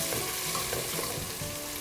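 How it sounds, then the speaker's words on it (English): Onions sizzle and fry in a pan for butternut squash soup, a dense, steady crackling hiss heard up close and alone, with no voices over it. "We got a good sizzle going. We want to just soften those onions."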